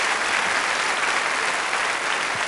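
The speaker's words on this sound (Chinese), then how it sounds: "您看掌声多热烈呀！" A studio audience at a televised Tianjin variety show breaks into dense, sustained applause, a steady loud wash of clapping with no pauses and no voices over it.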